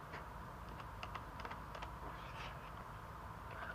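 Light, scattered keystrokes on a computer keyboard, faint clicks in small clusters over a steady background hum.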